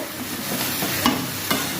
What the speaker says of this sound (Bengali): ভাজাটা প্রায় হয়ে এসছে